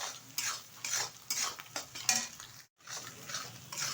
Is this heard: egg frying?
yes